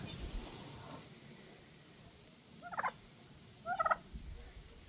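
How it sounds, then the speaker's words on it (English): Pet turkeys outdoors, including a hen, giving two short gobbling bursts a second apart against a quiet background with faint insect buzz. "But my turkeys are out."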